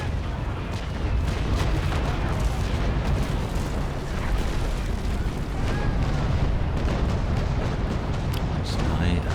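Full broadsides of ship cannons fire in a Naval Action sea battle, a dense continuous rumble of booming shots rolling together without pause.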